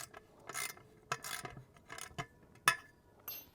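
A socket wrench tightens a bolt on a car canopy base in several short, soft ratcheting bursts separated by brief pauses, close and quiet.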